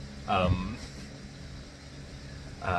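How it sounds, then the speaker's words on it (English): A steady low whirring hum of a running electric fan fills the background while someone talks briefly at the start and end. "Sorry about the fan."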